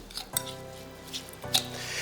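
Spoon stirring and clinking in a red wine vinegar sauce, with a few sharp metallic taps against the dish amid quiet scraping.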